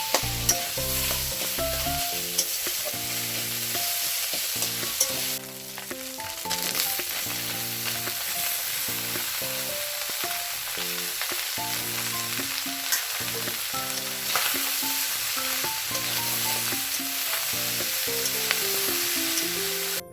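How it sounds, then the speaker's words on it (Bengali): Mixed vegetables sizzle in a frying pan as they are stirred for a long time, with scrapes and clacks of the spoon audible beneath loud, steady background music. "সবজিটা অনেকক্ষণ নাড়াচাড়া করলাম"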